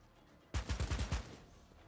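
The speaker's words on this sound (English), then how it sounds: "Frag grenade." A frag grenade going off in the tabletop-style video game Dark Heresy, heard as a sudden loud burst followed by a quick rattling series of blasts that trails off within about a second.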